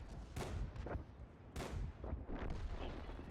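Video game gunfire cracks in several sharp, separate bursts, fairly faint and spaced over a few seconds.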